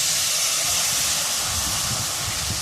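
Water poured into a hot pan of oil with turmeric, asafoetida and red chili powder for a whole brinjal curry gives a loud, steady, close hiss that holds without a break.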